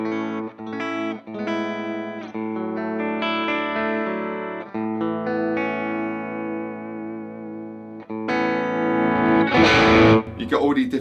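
An electric guitar is played with overdrive, giving sustained distorted chords and notes with some effect modulation, loud and close, ending in a brighter noisy strum.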